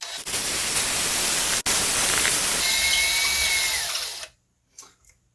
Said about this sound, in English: so I am going to need to drill this out a little bit more.